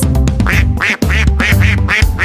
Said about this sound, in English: We are 5 ducks.